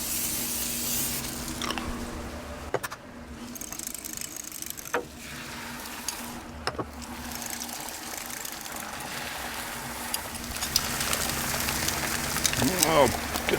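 Cooking spray hisses in short bursts onto a Blackstone griddle while food sizzles steadily in the background, with light clatter and a voice talking nearby.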